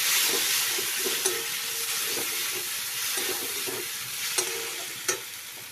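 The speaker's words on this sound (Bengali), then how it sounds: "এই যে মশলাটা ভাজা হচ্ছে।" Spice mix sizzles and hisses steadily in a pan, broken by a few sharp clinks and scrapes of stirring.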